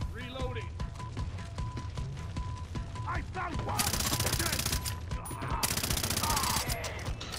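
Enemy gunfire in Far Cry 3 co-op, bursts of rapid shots rattling off at close range with loud fusillades in the later half, mixed with talking voices over the action.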